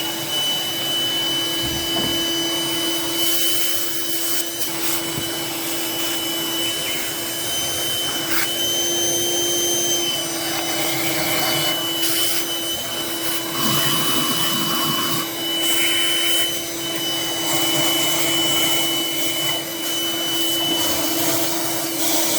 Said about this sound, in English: I'm going to run the vacuum cleaner to clean up, make sure like no dirt